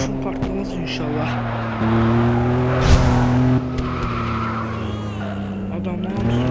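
Car engines roar and rev loudly with shifting pitch in the video game Madout2, tires squealing at times, while a voice talks over the action.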